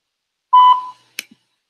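A single short electronic voicemail beep at the end of a recorded phone greeting, clear and close, followed by a faint click and then silence.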